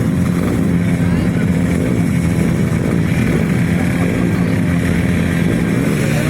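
Youth grasstrack motorcycles ridden by cadets roar away from the start tape together, a dense, loud engine drone under a race commentator's voice.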